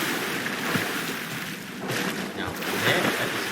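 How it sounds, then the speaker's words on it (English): Water rushing and churning as it floods a car in a Titanic-themed video game map, a continuous loud wash with no break. "The water begins to engulf my car."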